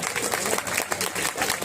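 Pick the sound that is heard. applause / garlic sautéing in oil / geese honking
applause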